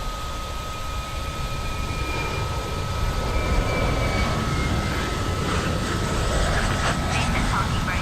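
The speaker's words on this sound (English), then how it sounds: "Sound of the Pratt & Whitney engine starting up." A Pratt & Whitney engine spools up on an A321neo in the MSFS2020 flight simulator game: a steady, moderately loud whooshing roar that swells slightly, with thin whining tones over it.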